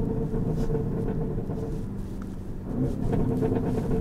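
Steady low engine rumble from inside an Audi RSQ8 SUV tuned to 1001 PS, with a muffled, slightly uneven overrun burble rising and settling as the vehicle rolls along.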